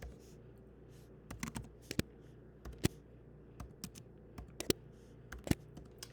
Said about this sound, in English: I'm going to start typing things in now.